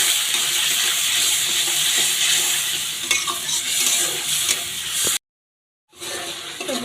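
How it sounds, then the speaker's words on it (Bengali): Spices fried and stirred in a pan for a moong dal with cauliflower, a steady close sizzle with scraping stir strokes, cut by a brief silent gap near the end before the frying resumes. "মশলাগুলো দিয়ে আমি এবার সুন্দর করে মশলাটা কষিয়ে নেব।"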